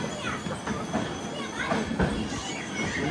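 A Gomteshwara Express train on the Bengaluru to Mangaluru line slowing at Yedakumari station, with rumbling carriage noise and faint wheel squeals under people talking and children's voices nearby.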